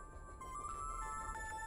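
An old cell phone rings inside The Charnel House Trilogy video game: a steady electronic ringtone of sustained tones with a shifting melodic line, heard indoors at moderate volume over a low background hum.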